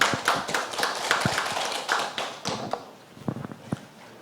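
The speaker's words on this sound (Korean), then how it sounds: "박수로 맞아주십시오" A seminar audience applauds to welcome a speaker to the stage, a moderate, somewhat distant patter of many hand claps that gradually thins out, ending with a few scattered taps and knocks.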